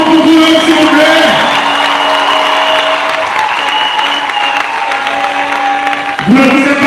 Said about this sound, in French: Encore un applaudissement pour vous, s'il vous plaît.